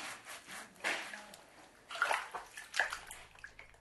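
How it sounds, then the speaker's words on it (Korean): Water splashes close by as feet are washed, in a few short bursts of sloshing separated by quieter moments. "발 씻고 자야 해."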